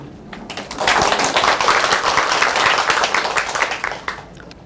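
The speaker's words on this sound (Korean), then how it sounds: "오늘 강의를 해주신 차은점 강사님을 따뜻한 박수로 맞아주시기 바랍니다" An audience warmly applauding as a lecturer on Buddhist life is welcomed, the clapping swelling quickly into a dense, loud burst, holding for a few seconds, then thinning to scattered claps.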